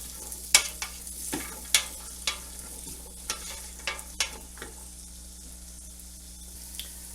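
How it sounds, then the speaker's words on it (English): Vegetables with onions sauteing in a pan, a soft steady sizzle punctuated by several sharp scrapes and knocks of a utensil stirring, growing quieter toward the end. "we just want to saute that till the vegetables are soft"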